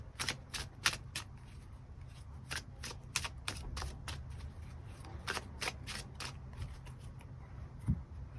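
Tarot cards being shuffled and drawn, a quick run of crisp riffling flicks and snaps, close but soft over a low background hum, with no talking.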